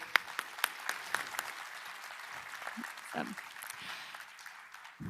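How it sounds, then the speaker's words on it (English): Audience applause at a tech conference forum as speakers return to the stage: a steady, moderately loud wash of many hands clapping, with a few sharper claps standing out early on. "Let's have another round of applause for all of our speakers as we welcome them back to the stage."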